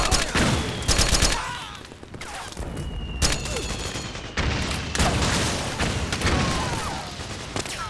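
Gunfire in Metal Gear Solid 4, a loud, dense barrage of rapid automatic shots and heavy booms that keeps going without letup, with shouted voices briefly mixed into the chaos.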